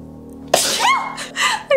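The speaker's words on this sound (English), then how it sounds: "I feel like I haven't sneezed in a video in so long." A single loud, close human sneeze bursts out sharply, trailed by a couple of quick breathy exhales as the person recovers.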